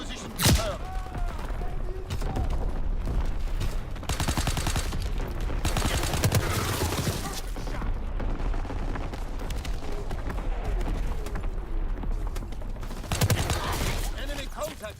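Artillery barrages and bursts of machine-gun fire from the Call of Duty WW2 video game, loud and continuous with heavy booms, some rapid fire and a voice speaking in the mix.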